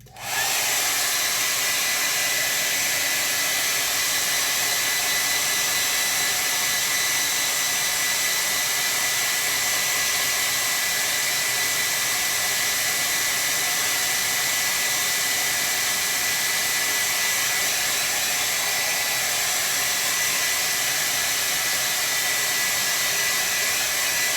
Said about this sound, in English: I'm going to have to do a quick dry off because of this wet area, so I apologize for the back and forth with the blow dryer